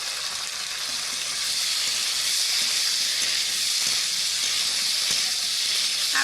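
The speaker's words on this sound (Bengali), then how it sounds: "এবার আগে থেকে সিদ্ধ করা আলুগুলো দিয়ে দিব। দিয়ে ভালো করে কষাতে থাকবো।" Boiled potatoes stir-fried in a curry with banana flower and fish, a loud dense hiss of frying that swells slightly and holds steady, with a few faint stirring knocks and no speech.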